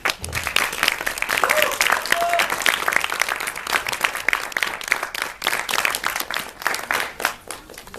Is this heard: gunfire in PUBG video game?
no